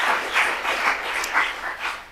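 Audience applause at a conservation panel session on amphibians and reptiles, a sustained wash of clapping hands at moderate level lasting the whole moment, no voices over it.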